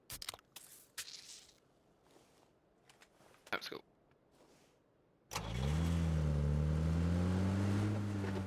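Car in PUBG starting up after a stretch of speech and quiet game noise, then a loud steady engine drone with rising revs that fills the rest.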